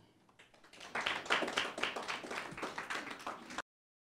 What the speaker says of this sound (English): Ladies and gentlemen, a round of applause for your super brands for 2020.